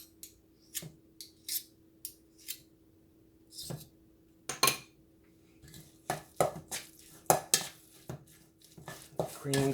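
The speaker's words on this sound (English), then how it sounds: "we got our cream cheese that we're gonna go ahead and add. Mix that up in there as well." Cream cheese being stirred into a chicken and potato bake, with a run of sharp scraping, clinking utensil strokes against a dish over a faint steady hum, growing busier and denser toward the end.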